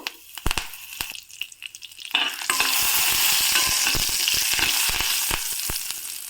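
Curry leaves drop into hot tempering oil already holding urad dal and a pinch of turmeric, for a Mysore Brahmin-style gojju. A few soft clicks come first, then a sudden loud, steady sizzle, close by with no talk.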